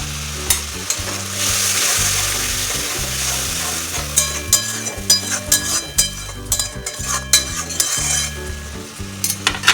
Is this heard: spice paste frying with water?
yes